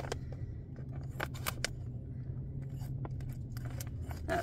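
Scissors snip through a foil MRE pouch of cheese tortellini in tomato sauce, giving several sharp, close cuts spaced unevenly over a low, steady background hum.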